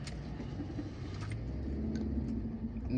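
A Sultan Trans bus passes on a busy, steep uphill stretch of highway, heard as a steady, loud engine rumble and road roar that swells slightly toward the end.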